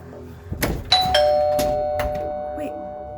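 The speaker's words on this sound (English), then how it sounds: "I'm hearing like the doorbell again" A doorbell chimes at a house at 3 a.m. in winter, a couple of bright ringing tones with lingering decay, preceded by a short noisy thump or rustle close by.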